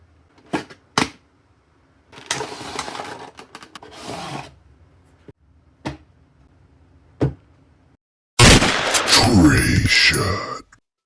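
Unboxing a NECA Ultimate Art the Clown blood-soaked action figure: scattered crinkles, snaps and clicks of packaging, a longer rustle of plastic and cardboard, and a loud close tearing of packaging at the end.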